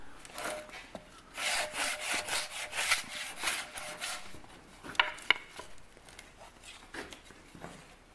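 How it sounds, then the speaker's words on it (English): Wood being sanded by hand with sandpaper while shaping a spud, heard as close, rhythmic rasping strokes in bursts, followed by a few sharper knocks and lighter rubbing. "now he's going to sand it. Holding sandpaper"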